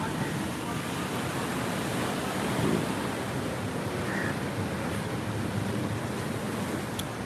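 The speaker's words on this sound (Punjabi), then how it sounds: "ਇਸ ਪਾਸੇ ਜਿਹੜਾ ਪਾਣੀ ਆ ਸਤਲੁਜ ਵਾਲੇ ਪਾਸੋਂ ਆ ਰਿਹਾ" Sutlej river water rushing at Harike headworks, a steady broadband roar of flowing water with wind buffeting the microphone, continuous and loud throughout.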